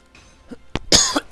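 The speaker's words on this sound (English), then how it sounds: "I tried to block my cough, I smacked the microphone." A few sharp coughs into a close microphone, ending with a loud knock as the mic is bumped, short bursts separated by brief silence.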